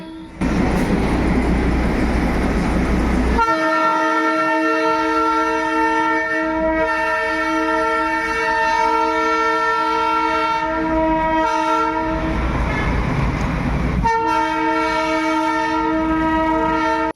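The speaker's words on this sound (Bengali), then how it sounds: "সোনাদা স্টেশনে আরও একটি টয় ট্রেন আমি দেখতে পেলাম" A Darjeeling Himalayan toy train rumbles past at Sonada station with a long, sustained horn blast ringing out over it, pausing and sounding again near the end; loud and close.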